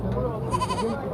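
At a livestock market selling ewes with lambs, sheep give a quavering bleat in the middle, mixed with people talking close by.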